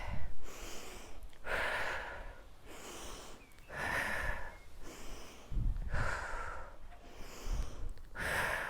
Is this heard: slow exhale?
yes